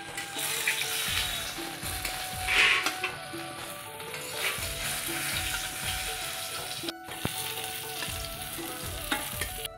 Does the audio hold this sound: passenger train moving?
no